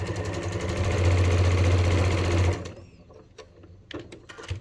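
A sewing machine stitches a seam on a beginner bucket hat, running in a steady, loud mechanical whir close by for a couple of seconds, then stops, leaving light handling clicks and rustles.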